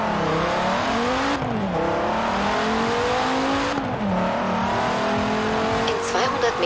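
A car engine in Forza Horizon 4 revs and climbs through gears with quick shift dips, loud and up close, while someone talks over it.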